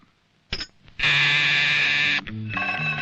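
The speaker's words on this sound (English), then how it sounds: "Sound the alarm." A loud electronic hospital fire alarm buzzes steadily for about a second, preceded by a brief beep and followed by a shifting, pulsing alarm tone.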